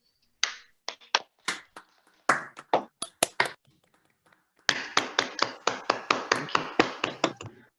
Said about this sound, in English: I would like everybody to unmute and to switch on your camera so we can give a small applause and